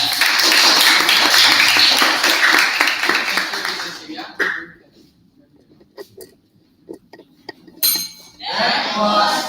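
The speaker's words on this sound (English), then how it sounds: "Let's give applause for Lucas." An audience applauds Lucas after his presentation, a loud burst of clapping lasting about four seconds before it fades into scattered quiet sounds and a short final flurry.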